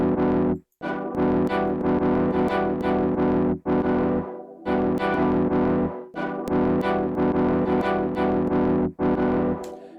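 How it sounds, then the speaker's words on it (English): A synth lead from Wave Alchemy Triaz plays a rhythmic, distorted phrase of repeated notes, with reverb that swells and is cut off abruptly at random moments, leaving short gaps between bursts. "sound more interesting by sort of giving it lots of reverb and then taking that reverb away really quickly"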